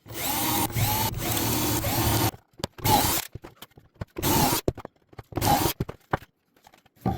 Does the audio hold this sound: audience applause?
no